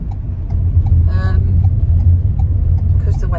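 A car rolls in slowly at an outdoor car boot sale, with a steady low engine rumble throughout, light clicks, and brief talk partway through.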